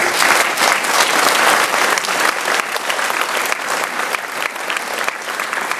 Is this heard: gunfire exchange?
no